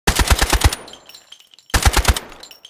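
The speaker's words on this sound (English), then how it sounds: "If we are in full auto, this is what it is going to look like." A G3 rifle fires in full auto in the video game Delta Force, two tight bursts of rapid, punchy shots, about seven rounds each, with a short ringing tail and shell-like clinks between bursts.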